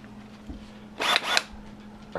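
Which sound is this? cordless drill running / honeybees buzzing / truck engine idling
cordless drill running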